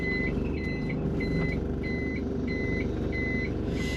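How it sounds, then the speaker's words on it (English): Loud, evenly spaced reversing beeps from a Nissan S-Cargo sound over a steady low engine idle, about six or seven tones repeating at a regular rhythm with no talking. "There's that loud beep for reverse."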